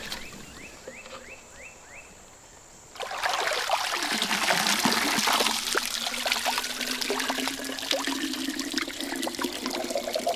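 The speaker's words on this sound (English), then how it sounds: "this water's now coming out all nice and clear, and all the residue and the debris from the swamp should be all still trapped in here" Swamp water trickles and pours steadily through a cloth sack used as a filter, quiet for the first few seconds and then a loud continuous splashing stream into water that runs to the end.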